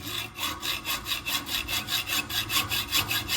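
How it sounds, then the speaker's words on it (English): A peppermill part held in a metalworking vise is sawn to length with steady back-and-forth strokes, about four per second, close and alone without talk. "So I'm using a metal working vise in order to cut the length."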